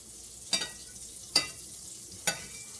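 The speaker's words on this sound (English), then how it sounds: "we'll go ahead and just add a little bit more butter to the leftover vegetable oil and butter and a little bit of that pork fat that's in there" Butter melting into leftover vegetable oil and pork fat in a pan, a soft steady sizzle with three sharp clacks or scrapes spaced about a second apart, close by.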